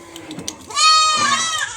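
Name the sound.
young goat bleating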